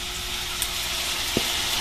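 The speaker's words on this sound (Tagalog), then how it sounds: "nagpiprito na po si mama ng fried noodles" Steady loud sizzling of miki noodles frying in a pan, continuous hiss with a couple of brief pops.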